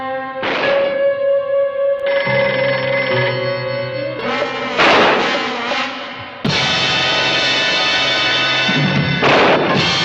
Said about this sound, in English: There's no answer out there, Gene.